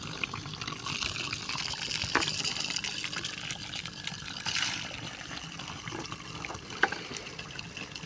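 Faint, continuous gushing and trickling water flows from a dryer's rotary compressor as it is taken apart, with a few small knocks and clicks along the way.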